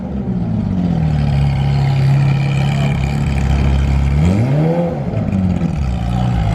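A fully custom Lamborghini with open exhaust valves blares a loud, steady engine drone at a car show, then sweeps up in a sharp rev and settles back to a throaty idle.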